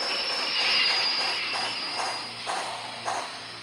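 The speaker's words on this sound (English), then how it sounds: "From outside came the sounds of hissing steel and squeaking metal." A loud, steady hiss of steam from a train with a high metallic squeal drifting over it and a few soft clanks near the end.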